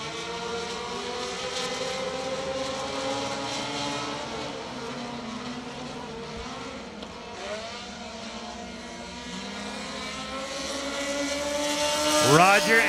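Street stinger race cars roar around Dixie Speedway in a 15-lap feature, engines droning steadily with rising and falling pitch as they pass, a louder car sweeping by near the end, under continuous trackside announcer commentary.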